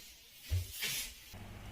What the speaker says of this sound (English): I spray plenty of water onto the mirror and wipe it down with newspaper